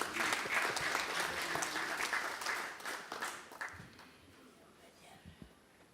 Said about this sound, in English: A big hand of applause again to the Minister.